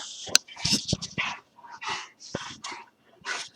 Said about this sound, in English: Here comes my dog Fred, if you hear him breathing